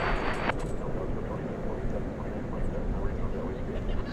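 An airliner departing DFW Airport gives a broad, sustained jet roar that stays fairly loud and constant, opening with a brief higher-pitched hiss.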